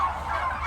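Turkey hens, twelve weeks old, on an organic turkey farm, make a dense, continuous flock chorus of gobbling and chattering calls, fairly loud and close, with no talk over it.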